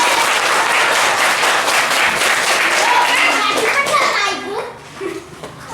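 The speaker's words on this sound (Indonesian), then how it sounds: "Oke, tepuk tangan." A classroom full of students claps loudly and steadily for several seconds after a presentation, the dense applause thinning out into scattered claps and children's chatter at the end.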